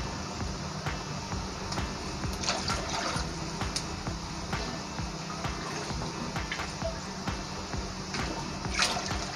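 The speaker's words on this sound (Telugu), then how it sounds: "అదే గ్లాస్తో నేను 3 గ్లాసులు వాటర్ అయితే నేను దీంట్లో పోస్తున్నాను" Water poured from a glass into a pot of rice in three pours, making a close, continuous splashing gush for most of the clip.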